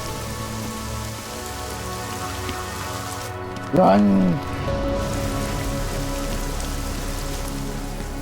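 Steady rain falls in a Deus Ex: Mankind Divided street scene, a constant hiss under game music, interrupted midway by a brief loud shout.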